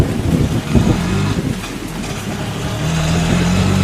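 Heavy rain pours as a sound effect in a horror audio drama, a loud, steady wash of downpour with no voices.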